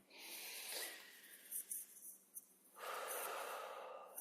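Slow, deliberate breaths during a guided breathing exercise: a long airy inhale, a short pause with small sniffs, then a sustained exhale, soft and close with no talking.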